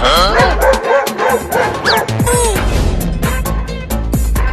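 A dog barks and yips while chasing someone, the rapid barks close and energetic, layered over continuous loud background music and sound effects with a rising whistle-like tone.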